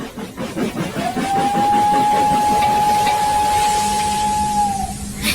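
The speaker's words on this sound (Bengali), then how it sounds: "হঠাৎ ঝিমিয়ে থাকা স্টেশনে ঝিকঝিক আওয়াজ করে ট্রেনটা ঢুকলো।" Cartoon steam train pulling into a station: rhythmic chugging puffs give way to a long, sustained steam whistle over hissing steam, loud and close, ending with a burst of steam.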